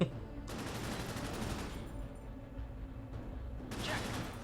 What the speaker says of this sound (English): rattle off a few rounds from the machine gun into the targets